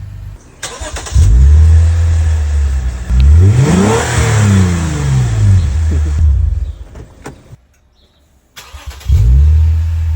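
A Lexus IS 250 with an HKS axleback exhaust revs hard and loud close by, rising and falling in pitch through several throttle blips, then cuts off briefly before roaring back.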